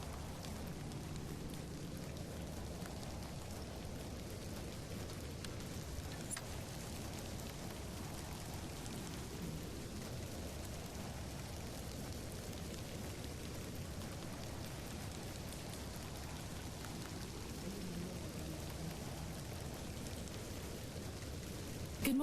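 Steady rain falls in the indie folk horror game The Excavation of Hob's Barrow, a quiet, constant hiss of drops that carries on without pause and with no voices.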